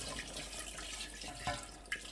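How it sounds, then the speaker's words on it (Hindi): Water pours into a pot of beef paya cooking on the stove, a steady splashing and trickling stream with a couple of brief clinks near the end. "जिस तरीके से अभी मैं पानी ऐड करने लगा हूँ"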